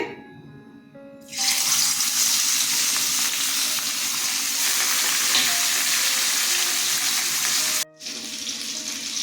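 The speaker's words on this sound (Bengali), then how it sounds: "কড়া গরম হয়ে গেছে মাছ ছেড়ে দিচ্ছি" Bata fish dropped into a very hot pan of oil, a sudden loud burst of sizzling after a quiet start that holds steady, briefly cuts out, then resumes, with no voices.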